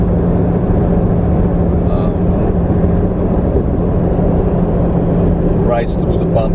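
Toyota Land Cruiser HDJ81V with a 4.2-litre 1HD-T turbo diesel cruising at about 55 mph on a downtown highway, heard from inside as a loud, steady drone of engine and road noise with a voice talking over it.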